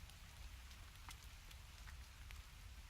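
Rain falls steadily in the video game The Forest, a dense even patter close by with scattered louder drops and no talk.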